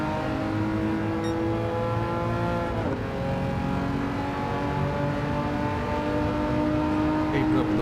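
A Porsche engine revs continuously while drifting in a racing game, layered harmonic engine tones dipping and rising with throttle, loud and close, with a person talking over it.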